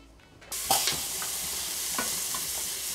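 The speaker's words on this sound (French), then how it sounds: "Je vais faire d'abord revenir mes oignons et puis je rajouterai mes légumes." Onions hit hot butter in a Cookeo cooker, bursting into a loud, steady sizzle that continues close up, with a few faint scraping stirs on top and no voices.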